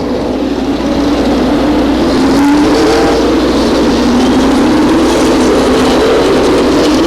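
Loud race car engines drone steadily as the field crosses the start-finish line at Stockton 99 Speedway, with a pitch-shifting whine of cars passing close by.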